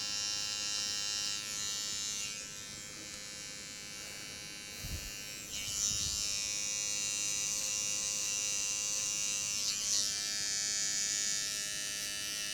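Electric clippers buzz steadily and close up while shaving an undercut along a man's natural hairline, a continuous high whine with brief shifts in pitch as the blade moves, with no talking.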